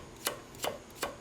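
Unpeeled carrot sliced with a knife on a cutting board for soup: three sharp, evenly spaced chops, crisp and close, with a quiet pause between each.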